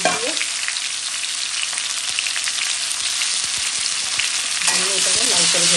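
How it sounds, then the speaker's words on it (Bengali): Potatoes frying in hot oil in a wok for aloo dum, a steady dense sizzle with occasional stirring clicks, close and continuous with no voices. "আলুর দমের আলুটাকে আগে আমি লাল করে ভেজে নিচ্ছি"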